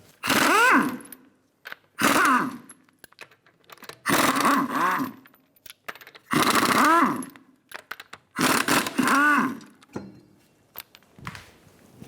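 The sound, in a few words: removing lug nuts with 21mm socket, Lexus RX350 wheel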